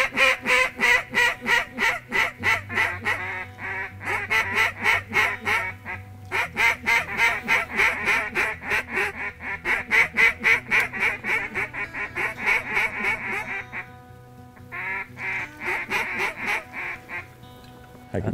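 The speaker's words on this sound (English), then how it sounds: "we got ducks about 10 o'clock coming hard" Ducks calling loudly and repeatedly while flying in over water during a duck hunt in the North Country, with rapid rhythmic quacking and honk-like calls in long continuous runs, close and dominant, with only brief gaps.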